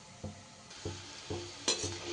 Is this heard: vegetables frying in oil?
yes